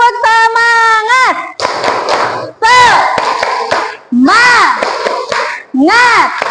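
Children in a classroom perform a rhythmic spirit clap, chanting in unison between bursts of patterned hand claps, their voices loud and close with short pauses between phrases.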